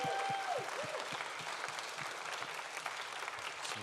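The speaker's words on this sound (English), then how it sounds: "one more round of applause" Applause from the audience at a campus and community radio awards gala, moderately distant and steady throughout, with a brief voice at the start.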